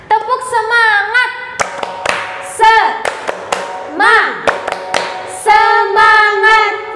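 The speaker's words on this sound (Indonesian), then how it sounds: "Sebelum kita kembali memuji Tuhan, mari kita tepuk semangat dulu Kak Wasti." Rhythmic group clapping in set patterns at a church Sunday school service, sharp handclaps punctuating children's chanting and shouted calls that carry over much of the clip.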